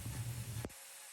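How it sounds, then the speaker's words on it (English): Knife pared along a cow's hoof during trimming, a close, steady rasping scrape that cuts off abruptly partway through, leaving quiet. "as I'm trimming this foot"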